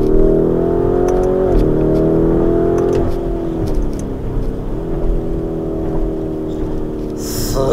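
A Lamborghini Urus SUV, about 2.2 tonnes, accelerates hard in Corsa mode. Its loud engine roar climbs in pitch, dips at each quick gear change and then climbs again, heard from inside the car.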